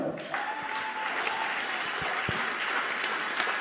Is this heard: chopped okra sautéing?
no